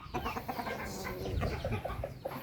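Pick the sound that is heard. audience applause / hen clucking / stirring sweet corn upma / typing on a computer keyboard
hen clucking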